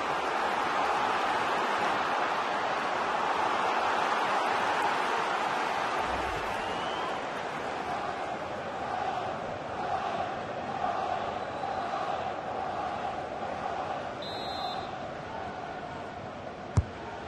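Stadium crowd from the FIFA 19 football game during an Arsenal pre-season match, a steady broad roar of massed fans swelling as a corner is taken, continuous and dense throughout with a brief whistle-like tone near the end.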